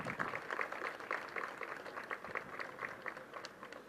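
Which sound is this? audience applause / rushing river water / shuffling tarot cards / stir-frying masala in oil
audience applause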